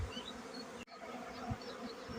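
Honeybees from a weak colony buzz during a hive inspection, a soft continuous drone with individual bees whining past nearby, faint and steady apart from a brief dropout, no talking.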